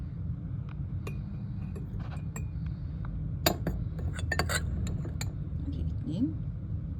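Spoonfuls of ground chickpeas clink against a glass jar in a home kitchen, giving a series of bright, light taps over a steady low background hum.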